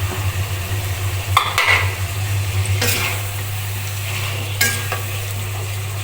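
Chicken pieces frying in a cooked-down spice masala, a constant close sizzle with a low hum beneath and a few sharp scraping stirs of a spatula against the pan.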